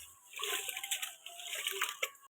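Raw white rice swished and washed in water for kambu koozh, a continuous close sloshing and splashing with brief breaks and no talking.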